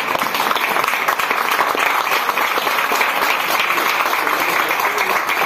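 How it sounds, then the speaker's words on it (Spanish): A church congregation applauds during a Spanish-language worship service, loud, continuous clapping from many hands that stays dense and even from start to finish. "Pueden sentarse, no sin antes aplaudir al Señor."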